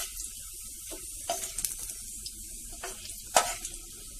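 Cashews and almonds fry to golden brown in a pan, giving a close, soft sizzle punctuated by scraping stirs and a few sharper clinks of the spoon against the metal.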